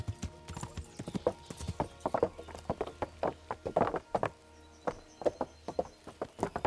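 Horse hooves clip-clop in the medieval game Kingdom Come: Deliverance, a steady rhythmic series of soft, close hoofbeats at a walking pace, fairly quiet, with a faint low background drone.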